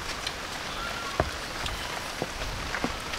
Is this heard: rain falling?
yes